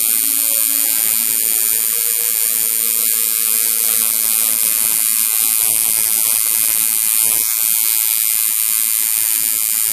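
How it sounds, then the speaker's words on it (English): An electric tattoo machine fitted with a 5 round liner needle, used to fill in a mouth on a tattoo, gives a steady, loud, close buzzing hum that runs unbroken with no talking. "I'm going to fill the mouth in with a 5 round liner."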